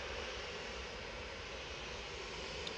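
An easyJet Airbus A320, de-iced and bound for Berlin, taking off at Manchester Airport, heard as a faint, steady, distant jet rumble that stays even throughout.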